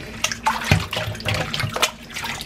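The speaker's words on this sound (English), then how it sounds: "Then I go ahead and rinse my pumpkin again." Water splashes and runs over a pumpkin being rinsed clean by hand in a kitchen, a close, uneven wash with brief louder gushes and handling bumps.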